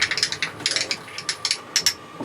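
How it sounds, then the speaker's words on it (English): Chili powder, cayenne pepper and cumin seeds are ground in a hand grinder, giving a close, rapid series of dry ratcheting crunches in an uneven rhythm, with no voices. "I'm gonna grind them up and put them in my refried beans a little bit here"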